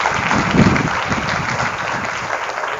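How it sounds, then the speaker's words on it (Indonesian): An audience of santri at the Al Ma'arif Songgom pesantren in Banten applauds together, a dense, even patter of clapping that fills the whole short moment without a break. "Tepuk tangan untuk kita semuanya hari ini"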